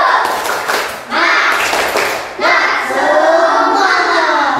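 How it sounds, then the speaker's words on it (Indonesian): An Indonesian elementary school class performs rhythmic spirit clapping, with bursts of hand claps and taps mixed with children's voices. "Sekali lagi, tepuk semangat."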